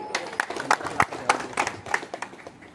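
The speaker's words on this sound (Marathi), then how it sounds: "टाळ्या वाजवा त्याच्यासाठी" A crowd at an outdoor rally claps in a scattered, uneven burst of applause, the individual claps sharp and close over a low murmur.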